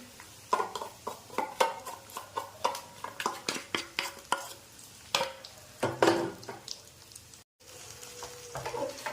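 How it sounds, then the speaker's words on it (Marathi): Thick batter being stirred into hot oil with garlic in a pan for Maharashtrian thapi vadi (patodi), giving repeated scraping stirs over a soft sizzle, fairly close, with a brief break near the end. "आणि हे आपल्याला सगळं मिक्स करून घ्यायचं आहे तेलामध्ये"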